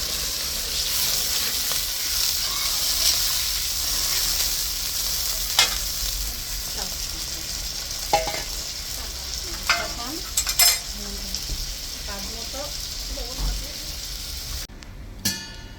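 A large katla fish is sautéed in oil in a pan, a steady close sizzle running beneath intermittent spoon scrapes and clinks of stirring, with no talking.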